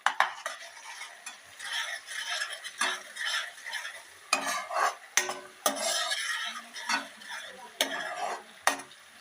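A spoon stirs turmeric and tomatoes sautéing in a pan for a green-corn chevdo, and steady close scraping strokes and metal clinks rise over a soft sizzle with no talk.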